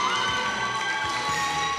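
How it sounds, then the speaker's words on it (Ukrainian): A school team's support group cheers and shouts at a school competition show, a steady dense crowd roar with scattered higher children's voices filling the room. "Оплески групи підтримки."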